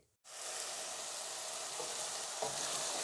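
Onion fries in hot oil with cardamom and cinnamon, a bright, steady sizzle that starts abruptly and carries on close up, with a couple of soft stirring knocks and no talk.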